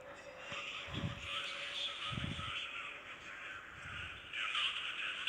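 A bird SCP creature in the Roblox game SCP Room gives three hoarse, low caws spaced about a second apart over a steady game ambience.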